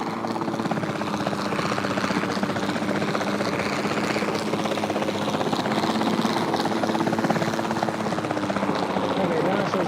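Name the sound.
capture team helicopter in the video game Jurassic World Evolution 2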